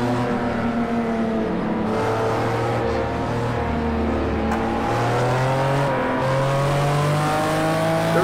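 McLaren F1 engine in the racing video game Project Cars 2, droning steadily with repeated rising and falling revs as gears shift, loud and close throughout with no talk.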